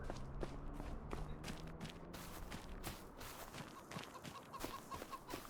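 Chickens cluck softly in the farm game Farming Simulator 25, faint and continuous over light footsteps and ambient game sound.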